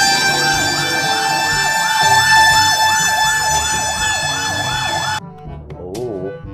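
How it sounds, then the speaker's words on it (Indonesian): A loud fire tanker truck siren wails in rapid repeating sweeps, close and steady, then cuts off abruptly, followed by a brief warbling tone. "ini mobil tangki pemadam kebakaran"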